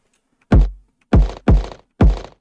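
Four punchy synthesized kick drum hits processed with OTT multiband compression in Bitwig, each with a sharp click on top of a booming low thump that decays quickly, spaced irregularly with silence between.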